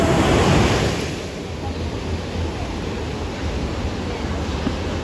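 Sea waves washing onto a stony beach near Odesa, a broad continuous roar of surf with wind buffeting the microphone, swelling at the start and then steadying, with no one speaking.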